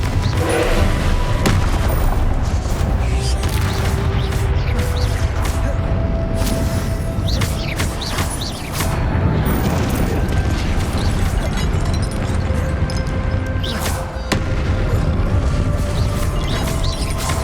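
Confringo spell blasts in a Hogwarts video game burst out in repeated loud booms and crackling explosions over a continuous, busy game soundscape, close and dense throughout.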